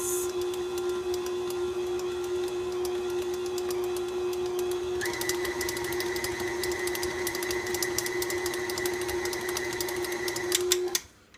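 An electric mixer runs steadily while it blends cookie dough after teff flour is added. A constant motor whine carries a pitch shift midway and a clicking rattle from the beaters, then it cuts off at the end.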